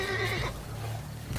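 A unicorn in The Witcher 3 gives a single high, wavering whinny that breaks off abruptly, close and clear over a low background hum.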